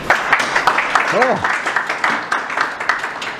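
An audience claps for a speaker about to give a talk on the history of Melbourne's 3AW radio station. The applause is a steady patter of many hands throughout, and a voice briefly speaks over it.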